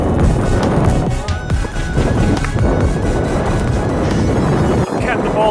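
Strong hurricane wind roars across a golf course during a low 9-iron shot, a loud, steady buffeting rush with gusts battering the microphone throughout.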